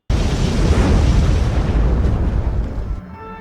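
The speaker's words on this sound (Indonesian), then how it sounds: "sutradara memutuskan untuk mengakhiri peran dari Brower dengan meledakkan diri bersama kawanan kampret." A loud, close explosion in a vampire film erupts as a single sustained roaring blast, then decays over about three seconds into a quieter rumble with faint ringing tones at the end.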